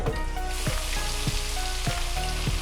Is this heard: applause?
no